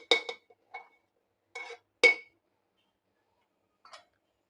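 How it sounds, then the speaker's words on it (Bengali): A metal pressure cooker lid is fitted onto the pot during home cooking, giving a few sharp, separate metallic clanks and clinks, close and fairly quiet, with short silences between them and no talking. "প্রেসার কুকারের ঢাকনাটা লাগিয়ে দেব।"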